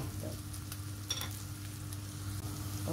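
Hotdogs frying in a pan with amplaya (bitter gourd) about to go in, giving a steady close sizzle throughout with a low constant hum beneath and a few brief clinks, no talking.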